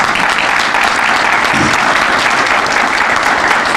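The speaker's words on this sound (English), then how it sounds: "Can we give her another round of applause?" Sustained, loud audience applause at a chamber of commerce economic growth forum, steady dense clapping filling the whole stretch without a break.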